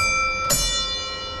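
An old bell mounted on a 1966 Chevrolet C10 pickup rings once, a single bright metallic strike with a sustained ringing tone that slowly fades over steady background hum.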